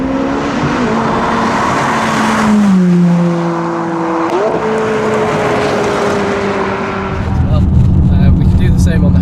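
McLaren 570S engine in sport mode, accelerating with rising tonal engine harmonics that step up through shifts, close and loud, ending in a heavier low roar; a voice speaks over part of it.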